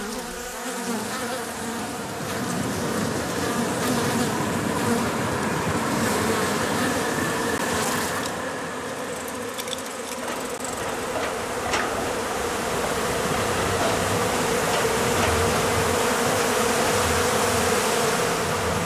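A dense, steady buzzing drone of a honey bee swarm, loud and close, holding without a break throughout.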